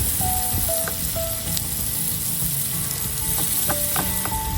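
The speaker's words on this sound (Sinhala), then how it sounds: "මේ ටික හොඳට රන්වන් පාටට අපි චුට්ටක් බැදෙන්න අරිනවා" Onion and garlic fry in a pan over low heat for a cheesy Italian-style pasta, a loud, constant close sizzle with occasional stirring scrapes and clinks and no voices.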